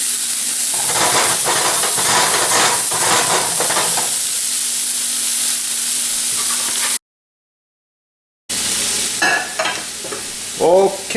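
Mahi mahi sizzles steadily in a hot pan, a loud continuous frying hiss with crackle, cut by a few seconds of silence before the sizzle resumes with sharper spitting pops.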